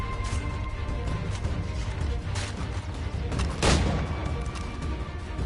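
Gunfire and crashes in the video game Assassin's Creed 3, several sharp bursts over a busy battle din, with one louder impact standing out near the end.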